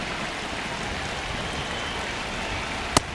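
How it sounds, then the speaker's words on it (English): Rain falls steadily at Truist Park during a Royals–Braves MLB game, a continuous, even hiss with one brief sharp click near the end and no voices. "It feels like we might be headed towards a rain delay if the weather doesn't ease up, Chris."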